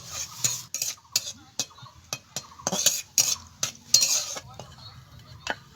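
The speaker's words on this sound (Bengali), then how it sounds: "দেখুন কাজুটাও ভাজা হয়ে গেছে," Cashews fry in oil while a metal spoon repeatedly scrapes and clinks against the pan in irregular bursts over a quiet background sizzle.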